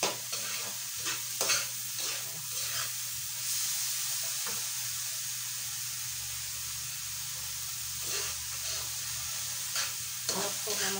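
Vegetables sizzle and hiss steadily in a hot pan, with intermittent scraping stirs and clinks throughout; close and moderately loud, no voices.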